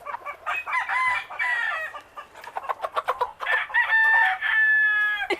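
Nervous Cornish Cross meat chickens being moved into a dog kennel, clucking and squawking up close in agitated bursts, with some rising calls near the end.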